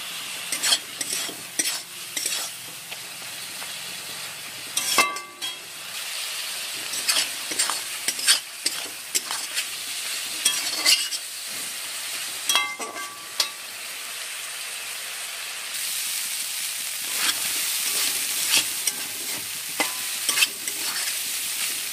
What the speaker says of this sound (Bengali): এখন দিলাম লঙ্কার গুঁড়ো। এবার এটাকে আমি ভালো করে ভেজে নেব।